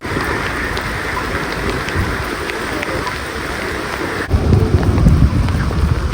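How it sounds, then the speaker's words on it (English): A storm in Newcastle, Australia brings loud, steady rain with wind buffeting the microphone, a continuous roaring wash that surges into heavier low rumbling gusts for the last couple of seconds. "let's have a look at this footage taken around about the same time during the storm"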